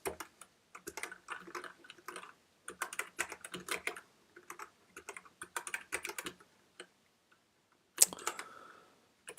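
Rapid bursts of close computer keyboard typing come in uneven clusters with short pauses, ending in one sharper keystroke.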